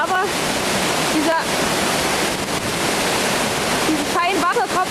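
Waterfall in the Liechtensteinklamm gorge in Austria, a loud, steady broadband roar of falling water filling the whole stretch, with brief higher splashy bursts near the start and end.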